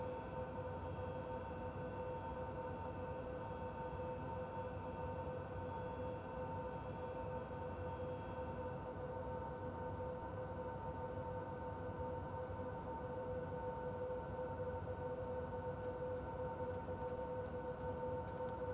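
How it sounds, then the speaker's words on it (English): A DB electric freight locomotive on heavy duty between Köln and Aachen sounds a long, steady, loud horn blast in fog, holding its tone unbroken for nearly twenty seconds. "I will give a blast of the horn because it's very foggy."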